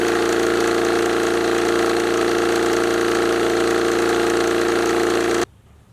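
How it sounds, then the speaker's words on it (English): A farm windrower's engine idles loudly and steadily in a constant close drone, then cuts off abruptly near the end, leaving only faint background noise. "Time to wake up the windrower."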